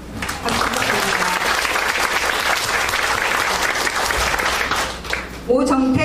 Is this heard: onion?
no